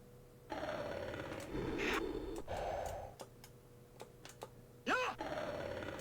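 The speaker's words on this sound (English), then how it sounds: "Listen to the breathing sound." Heavy, rhythmic breathing from a creature in the Amiga video game Targhan, rising and falling in a few long breaths amid scattered game clicks and ticks, with a sharp sweeping effect near the end.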